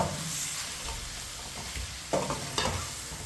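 Spices and crushed garlic stirred in a frying pan over low heat, with a soft continuous sizzle and a few scraping knocks of the spoon against the pan.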